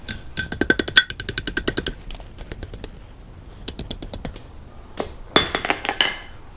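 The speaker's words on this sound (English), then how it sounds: "I'm going to take this out and curve it over the horn of the anvil." Square steel stock is bent over a blacksmith's anvil horn in a historic fort's smithy, heard as bright metallic clinks struck in quick rhythmic bursts, pausing briefly between runs.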